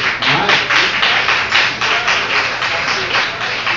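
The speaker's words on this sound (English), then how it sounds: "When you get spontaneous applause like that" Spontaneous applause from an audience at a community gathering, a steady wash of many hands clapping close and loud with a slightly uneven pulse throughout.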